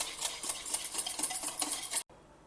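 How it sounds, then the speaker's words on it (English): Homemade curd being whisked in a bowl, a quick run of clinking, scraping strokes of a utensil against the bowl, close and fairly quiet, ending abruptly after about two seconds. "Here I have half a cup of dahi, that is homemade curd. I will just whisk it well."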